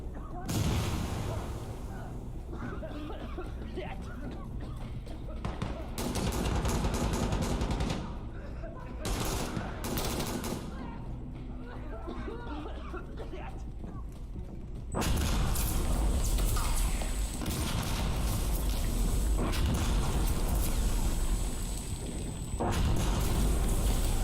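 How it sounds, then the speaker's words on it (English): Artillery shelling in an online video game: bursts of gunfire and heavy thumps against a dense, steady background roar, growing louder and busier in the second half. "It is always a little tense because you will often get shelled in the game."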